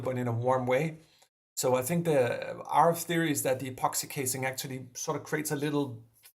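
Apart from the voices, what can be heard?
No distinct noise like a dog, phone or traffic.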